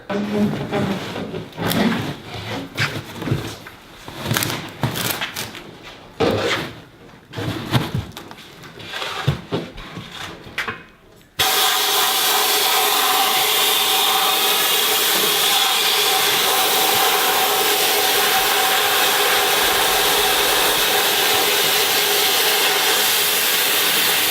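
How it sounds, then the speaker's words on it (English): Abrasive media blasting from a compressed-air hose inside a homemade blast cabinet, used for a 1977 Chevrolet Nova restomod. After about eleven seconds of intermittent clattering and handling noise, a loud, steady broadband hiss of air and grit starts and runs without a break to the end. "connect the air hose up there, and then just blast away, and then the air pressure draws up the media as the air's going over it"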